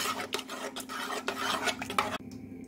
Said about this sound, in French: Je mélange bien